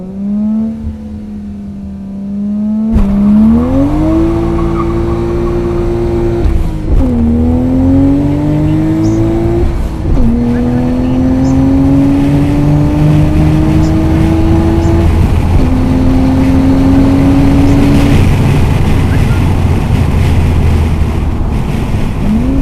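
Toyota Cressida RX60 fitted with a 1JZ-GTE engine accelerating hard on a test run, loud close engine note climbing through several gears with rises and drops at each shift, plus heavy wind noise.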